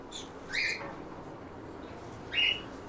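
A pair of white cockatiels in an aviary give two sharp, loud squawks about two seconds apart over a quiet background hum.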